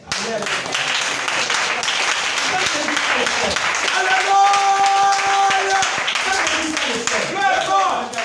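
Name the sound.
audience applauding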